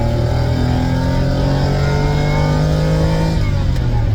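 A Lamborghini Countach accelerates hard in second gear onto a highway, its engine note climbing steadily in a loud, continuous close-up roar up to about 6,500 RPM, with no talk.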